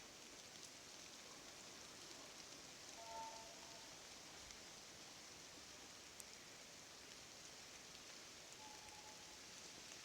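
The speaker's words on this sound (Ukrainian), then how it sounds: "У нас дощик почався." Soft, steady patter of light rain falling, a continuous gentle hiss with no voices.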